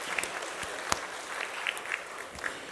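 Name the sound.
church congregation applauding to congratulate an engaged young man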